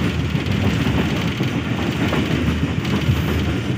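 A passenger train running at about 85 km/h on the Multan to Sanawan line near Lalpir station, heard as a loud, steady rumble of wheels on the tracks with a faint rhythmic clatter.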